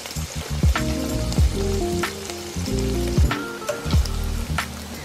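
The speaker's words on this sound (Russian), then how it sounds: "Heating the paneer a little bit so that it becomes a little crispy." Paneer cheese frying in a pan until crispy, a loud, steady sizzle with bright crackles and pops, broken by several clanks of a utensil against the pan, no voices.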